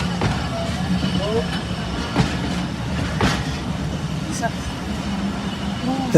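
A train rumbles steadily past with a low continuous roar and occasional clanks, while people talk nearby at a station on the Pangsha–Kushtia line in Bangladesh.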